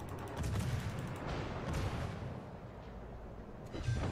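Naval guns fire in World of Warships in rolling, booming salvos that keep up a dense rumble throughout, with a heavier thump near the end and no talk over it.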